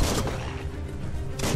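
Pistol fire in the video game Biomutant sounds as loud, dense bursts of gunfire, with a sharp blast at the start and another near the end and sustained noise between them.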